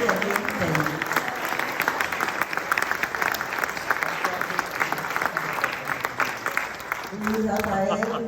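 An audience at a lecture-hall conference bursts into steady applause that carries on for several seconds, dense and fairly loud, with a voice speaking over the start and again near the end.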